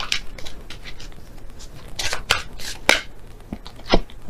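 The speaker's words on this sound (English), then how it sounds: "So I'll shuffle again and see which one comes out." Tarot cards are shuffled by hand in a series of quick, crisp riffling and slapping bursts, close and fairly loud, with no talking.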